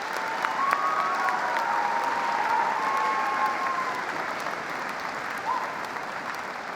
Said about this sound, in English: Let's give another round of applause to our honorary degree recipients.